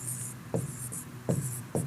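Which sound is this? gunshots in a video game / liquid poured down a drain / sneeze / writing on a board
writing on a board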